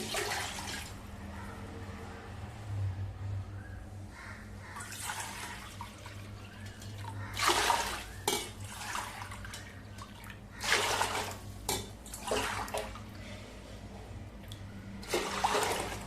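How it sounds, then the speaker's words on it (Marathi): Water splashes and gushes in several bursts into a cooking pot, pouring in short surges with quieter gaps between, close by, with no talking. "तर टोपामध्ये आपल्याला एकूण 4 वाट्या इतकं पाणी घालायचंय"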